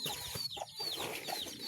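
Native chickens clucking softly and quickly while being fed, several short overlapping clucks and chirpy calls close by, quiet and continuous.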